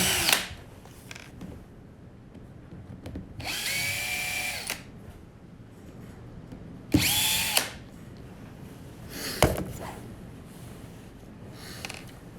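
A power drill backs a screw out of a boot sole, with two sustained whirring bursts and a third shorter one, separated by quiet handling noises and small clicks, all close by.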